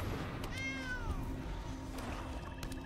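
A cat card in the MTG Arena digital card game gives a clear synthesized meow with a rising and falling harmonic sweep, followed by a softer second meow over steady game background sound.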